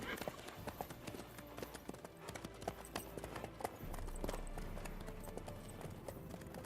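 Horse hooves clip-clopping in the video game Witcher 3, a steady rhythmic patter of hoofbeats over a low ambient game soundscape, moderately faint with occasional louder steps.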